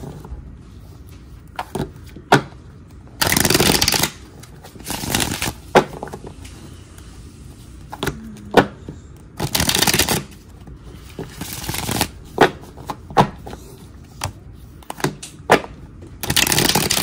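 Playing cards are shuffled by hand in repeated bursts, sharp riffling rustles separated by short pauses and softer handling clicks, close and clear.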